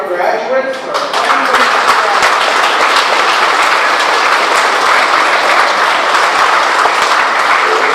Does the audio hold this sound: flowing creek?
no